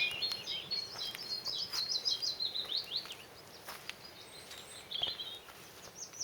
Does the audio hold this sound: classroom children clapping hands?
no